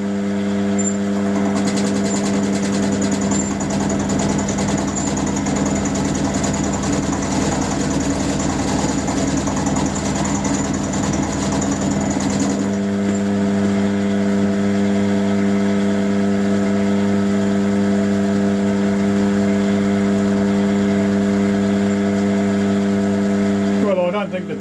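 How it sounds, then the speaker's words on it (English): A milling machine makes passes across the edge of a tool tang for a camera shutter retaining ring tool, a steady loud motor hum with a cutting roar through the first half that drops away, leaving the running drone. "we'll just run a few passes across here"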